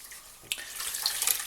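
A wig is dunked into a sink of water and squeezed while being co-washed, giving a soft running, sloshing wash sound that swells and grows busier toward the end.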